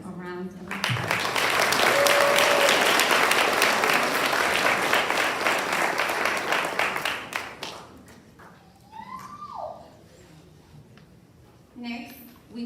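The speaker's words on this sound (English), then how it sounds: "Please give all of them a round of applause." A round of applause for award recipients at a collegiate high school senior awards ceremony, a full crowd clapping loudly for about seven seconds before fading, followed by a speaker's voice and brief sounds from the stage.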